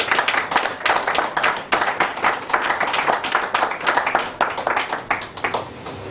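Conference audience in a Congolese diaspora gathering applauding with steady, dense hand clapping that carries on throughout, close and moderately loud, with a few voices faintly mixed in.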